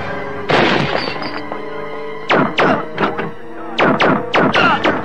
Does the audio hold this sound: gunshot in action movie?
yes